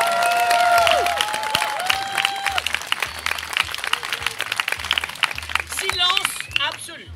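Circus audience clapping at a one-man circus show, a dense burst of applause filling the whole stretch alongside whistle-like tones, a rhythmic low beat and voices talking over it.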